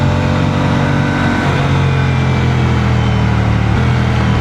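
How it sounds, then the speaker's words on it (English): An Aprilia Tuono 457 motorcycle engine revs freely, a loud, steady droning hum that rises slightly midway, heard close and continuous without talk. "It's a very free revving engine."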